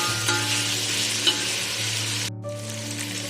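Ginger garlic paste fries in a pan with a steady, close sizzle and a few soft stirring scrapes, with no talk; the hiss drops out sharply for a moment near the end, then resumes.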